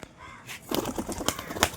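Roller pigeons at a loft take off and tumble, a burst of rapid wing claps and flutters starting after a quiet moment, fairly close and uneven in rhythm.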